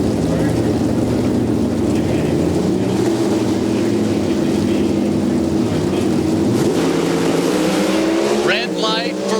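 NHRA drag racing car making a run at the 2003 Fram-Autolite Nationals at Sonoma, a loud, sustained engine roar throughout with an announcer's voice over it.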